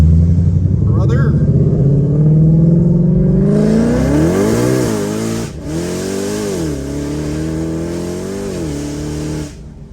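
A Ford Mustang, either a Shelby GT500 or a 2024 Dark Horse, revs loudly and then accelerates hard with traction control off. Its engine note climbs and shifts through gears close up. Faint voices sit under the roar.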